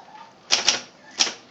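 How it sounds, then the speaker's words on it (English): An Adler Satellite electric typewriter types a few crisp, loud keystrokes close up: two quick strikes, a pause, then one more, with a faint tap at the end and no talking. "we love playing with old typewriters"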